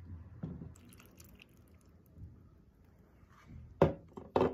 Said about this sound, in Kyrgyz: Азыр курмага суу куябыз.